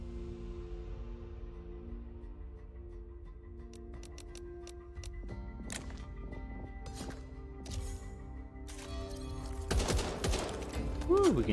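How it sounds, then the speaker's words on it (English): Gunfire in the co-op zombie shooter Back 4 Blood rattles off as quick bursts over a low game hum, growing denser and louder toward the end. "we can hear her shooting again"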